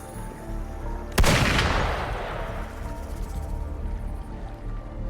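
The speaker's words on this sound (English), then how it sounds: "Gunfire! We've got intruders." A single sharp gunshot cracks out in the action video game Wuthering Waves and decays over a couple of seconds against a low ambient background, with no other shots following.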